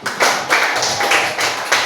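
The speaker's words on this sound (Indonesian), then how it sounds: "Tepuk tangan untuk kita semua." A small class of schoolchildren claps together in a brief burst, several quick hand claps in a loose rhythm, close and fairly loud, with no talking.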